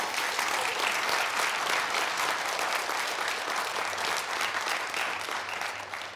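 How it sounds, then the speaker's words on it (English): Sustained audience applause at a constitutional law talk, dense and steady clapping from a large crowd filling the room, holding loud throughout before tapering slightly at the end. "Please give him a round of applause."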